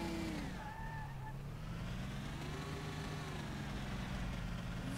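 Engine of a fast car driving in Mafia 1, a steady, continuous drone with slowly shifting pitch and no talk.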